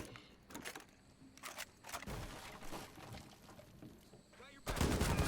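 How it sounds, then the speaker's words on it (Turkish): Gunfire into wooden boards in Rainbow Six Siege, with bursts of shots and sharp cracks coming and going over a low background, ending in a louder close volley. "Tahtalardan rastgele sıkayım."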